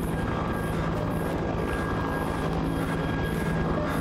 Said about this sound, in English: Even though you could probably get a better view of it from the helicopter.